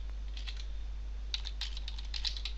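Fingers typing HTML code on a computer keyboard, two short bursts of light clicking keystrokes separated by a pause, close but soft over a steady low electrical hum, no voice.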